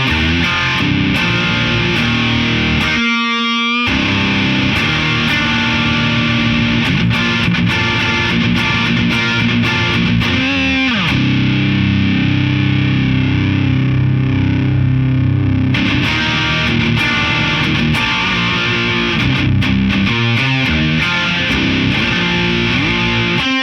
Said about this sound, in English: It's a good sounding overdrive, I think. And, well, in this case, it's technically now in distortion.